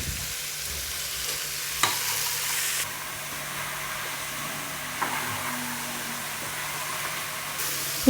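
Tomatoes and vegetables with salt sizzle in hot oil in a pan for veg biryani, a steady frying hiss with occasional stirring clinks and scrapes, close and continuous.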